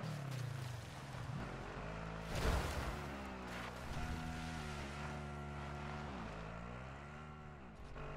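Vehicle engine in Call of Duty MW3 Zombies, a droning motor that rises and falls in pitch as it accelerates and shifts, steady and fairly quiet, with a brief louder burst partway through.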